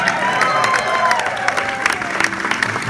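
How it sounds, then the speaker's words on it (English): Applause and some cheering from a comedy show crowd at a ballroom venue, continuous clapping with scattered sharp claps standing out and a faint murmur of voices underneath. "a round of applause for the Man in the Green Mask's sidekick"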